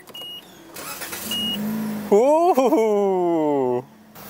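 A short beeping chime and a low electrical hum, then a car engine with a newly installed battery cranks and catches, revving steadily for a second or two before cutting off.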